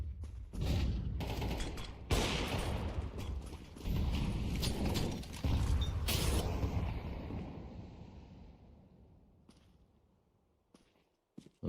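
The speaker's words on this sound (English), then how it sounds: "A lot of nades flying in." Grenade blasts and bursts of gunfire during a competitive first-person shooter match, several loud broadband explosions and rattling shots in quick succession that fade toward near silence by the end.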